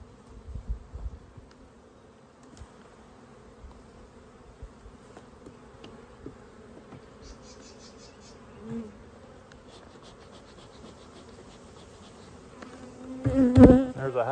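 Honeybees hum in a continuous low buzz during an open beehive inspection, with occasional nearer passes and a sharp clunk of equipment near the end, all fairly quiet and without speech.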